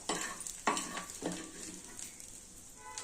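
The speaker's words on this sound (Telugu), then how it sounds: "పెన్నంలో ఉండి ఈ బేసన్ అంతా వేసేసి కలుపుకోవాలి" A spoon stirs gram flour (besan) into the oil left in a pan after frying ridge gourd, with three scraping strokes over a soft sizzle, close and fairly quiet.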